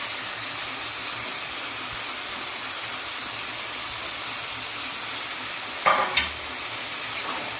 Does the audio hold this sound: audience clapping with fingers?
no